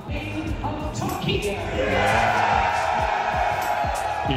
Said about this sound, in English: there is a big old crowd out there and they are loud.